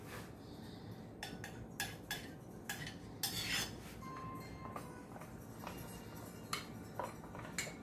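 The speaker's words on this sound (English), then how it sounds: "we got to lather this sauce right over the top of them" Spoon clinks and scrapes in a baking dish as sauce is spread over manicotti, scattered sharp metallic taps and short scraping strokes, close and quiet with no talk.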